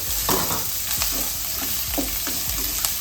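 Chopped onion and green chillies frying in a pan, a continuous close sizzle with several sharp scraping stirs at irregular intervals.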